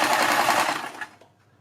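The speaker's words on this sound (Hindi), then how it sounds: "जितना हमने इधर से दबाया इतना ही इसको दबाते जाइए और नीचे तक सिलाई लगा दीजिए" Sewing machine stitching fabric for a neck design, a close, rapid mechanical chatter for about a second that slows and stops.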